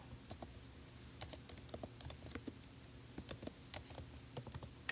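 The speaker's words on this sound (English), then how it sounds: "let's type in the name of our app." Quick, soft taps on an iPad's on-screen keyboard spell out an app name in Swift Playgrounds, an irregular patter of close, light touches with no talking.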